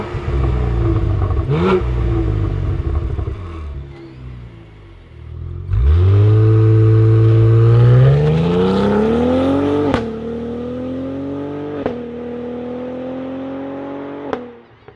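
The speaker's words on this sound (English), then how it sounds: "let's fire this turbocharged, twin turbocharged engine up and hear it sing." A 2024 Cadillac CT4-V Blackwing's twin-turbocharged engine cranks and catches, flares into a loud rising rev, settles to a lower idle, then gives several short sharp throttle blips, all heard alone and close.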